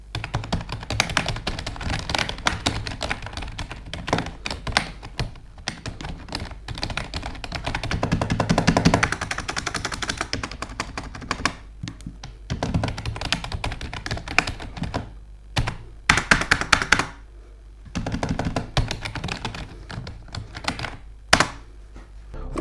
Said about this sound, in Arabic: ودابا غادي نخليكم تسمعوا الصوت ديال لوحه المفاتيح باش نتوما تقرروا كيفاش غادي يجيكم الصوت ديالها